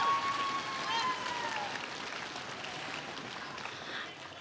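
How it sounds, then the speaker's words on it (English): Audience applause at a middle school orchestra holiday concert, moderately faint and diffuse clapping from a crowd, with a voice speaking briefly over it near the start. "Give him a big round of applause."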